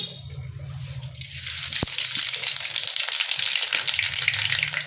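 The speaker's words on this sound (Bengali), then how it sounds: "তেলটা খুব ভালো করে গরম হয়ে গেছে এবার আমি বেগুন ভাজার জন্য তেলের মধ্যে দিয়ে দেবো কালো জিরে ফোড়ন" Nigella seeds and eggplant dropped into very hot oil in a wok, a loud hissing sizzle that bursts up after a soft start and keeps spitting steadily close by.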